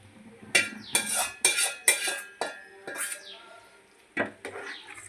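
Fried ivy gourd pieces tip into a cooking pan of simmering masala in a home kitchen, giving several sharp metallic clinks and clatters of utensil against pan in quick bursts, with brief scraping between.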